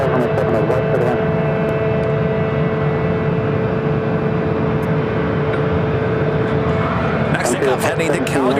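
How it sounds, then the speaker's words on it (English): A WestJet Boeing 737-800 bound for Calgary takes off at Phoenix airport, its jet engines giving a loud, steady roar that holds throughout, with radio chatter and talk faintly mixed in. "Takeoff heading to Calgary, WestJet flight 1403. It's a 737-800."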